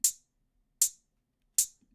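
Three crisp, short 808 drum machine hi-hat ticks, evenly spaced, bright and hissy with very quick decay, sounding alone against silence.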